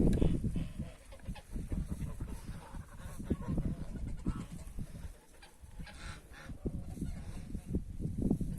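Geese honk repeatedly and loudly close by at farm ponds, mixed with other farmyard fowl calls, a busy overlapping chorus with no talking.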